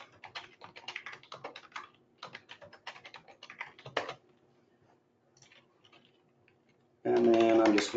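Fingers type an email address on a computer keyboard in bursts of rapid key clicks, close and fairly quiet, with pauses between runs before a louder sound cuts in at the end.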